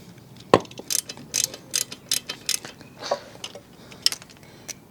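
A run of sharp metallic ratchet clicks in short, uneven bursts, close up, with brief pauses between turns, loosening a corroded Torx screw on a BMW 1250 GS Adventure motorcycle kickstand.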